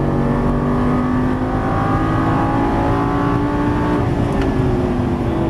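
A Lamborghini Gallardo LP550 engine pulls hard on a racetrack, a loud, continuous, steady roar with rising harmonic tones as it accelerates, close and unbroken with no talk over it.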